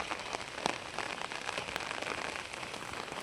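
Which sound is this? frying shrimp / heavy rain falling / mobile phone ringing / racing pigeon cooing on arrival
heavy rain falling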